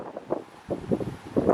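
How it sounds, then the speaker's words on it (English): Gusty wind blows across an outdoor microphone in bursts of low rumbling buffeting, rising and falling over a steady breezy hiss with no voices. "It's windy"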